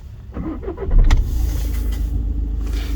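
A used Seat Leon with about 90,125 km on it starts up nearby: a short cranking burst catches, then the engine settles into a steady, close idle.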